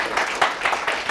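An audience claps after a lecture introduction, a brief close burst of clapping with several pulsing swells in about a second.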